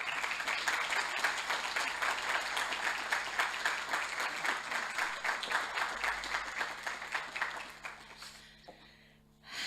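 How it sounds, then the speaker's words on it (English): Sustained applause from an opening-ceremony audience greets a professor coming on stage, a dense even wash of clapping that carries on for several seconds and then fades out near the end. "let's give a big applause to this inspiring personality"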